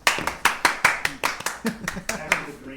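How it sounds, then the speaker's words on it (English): A few people clap together on a live show, about a dozen sharp, distinct claps in a loose, slightly uneven rhythm, close and clear, with chatter and voices mixed in. "usually we clap"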